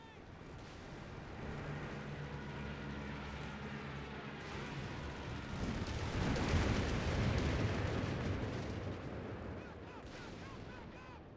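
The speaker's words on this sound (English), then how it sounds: "Airstrike incoming!" Rumbling airstrike explosions and artillery fire in the WWII tactics game Graviteam Tactics: Mius-Front, a continuous dense roar of distant blasts that swells louder midway and then eases, with no talk over it.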